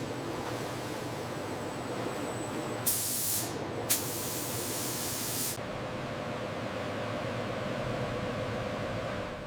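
Base color paint sprays onto pencils inside a factory coating chamber, a steady broad hiss over machine rumble, with two louder bursts of spray in the middle.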